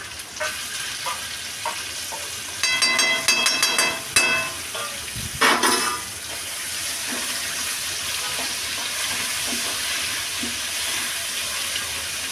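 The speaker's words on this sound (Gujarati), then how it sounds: "હવે આપણે આમાં લીલા મરચાંની પેસ્ટ એડ કરીશું." Green chili paste frying in a pan for a Rajasthani gatta sabji, a steady close sizzle with brief louder bursts of crackling and stirring in the middle, then settling back to an even hiss.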